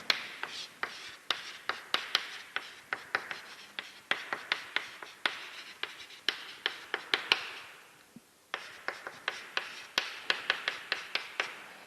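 Chalk or marker taps and strokes on a board during a lecture, a steady run of sharp, evenly spaced clicks with a brief pause before the tapping resumes, close and fairly quiet.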